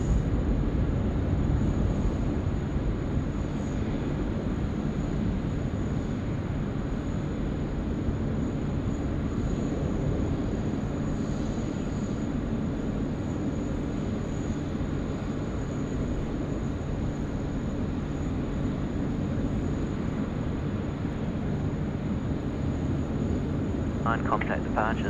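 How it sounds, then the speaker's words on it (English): Qantas airliner inbound from Manila passing overhead Sydney Airport ahead of a runway 16 left arrival, a steady, sustained jet roar lasting throughout with broadband rumble, voices faintly present at times. "Qantas 20 in from Manila is just overflying the field"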